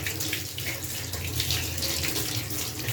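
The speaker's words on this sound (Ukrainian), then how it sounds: "О, вже пішла тепла вода." Warm water gushing steadily from a household tap, a constant close splashing hiss with a low rumble underneath.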